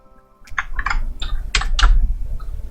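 Someone types on a computer keyboard and presses Enter during a technical drawing lesson: a short run of crisp, close key clicks, with a couple of louder strokes near the end. No one talks.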